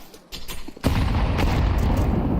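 Grenades explode in a Counter-Strike match at the PGL Cluj-Napoca 2026 semifinals: a faint rumble, then a sudden loud blast that rolls into a sustained, booming roar.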